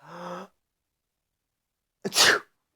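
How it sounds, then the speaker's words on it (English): A single sharp sneeze rings out clearly after a brief voiced sound and a pause of silence. "Can you sneeze without opening your mouth?"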